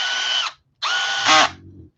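A DeWalt power drill with a drill chuck head whirs in two close bursts, the second rising briefly in pitch before spinning down.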